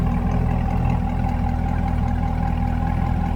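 A 2022 Chevrolet Corvette Coupe 2LT idling, a steady low rumbling drone with no revving, close and constant throughout, no voices.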